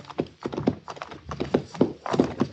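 Horses' hooves clip-clop up a hillside in a 1950s western radio drama, close and steady with overlapping uneven beats from more than one animal and no talk over them.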